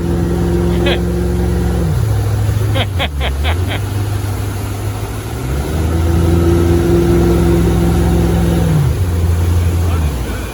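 An old junk boat's motor runs at throttle on a lake, its tone rising and falling as the revs climb and drop in waves, loud and close, with a few sharp clicks partway through.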